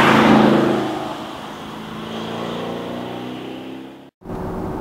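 A 2014 Porsche Cayenne GTS engine hums steadily while driving, loud at first then settling into an even drone, with a brief dropout near the end.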